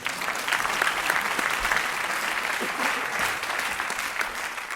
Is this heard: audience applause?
yes